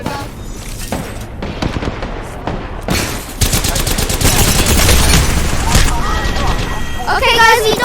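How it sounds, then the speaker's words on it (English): Gunfire raining down from above in Apex Legends, loud rapid automatic bursts and heavy shots stacking into a chaotic fight. A faint voice is present beneath the shooting. "Oh, they're firing from above."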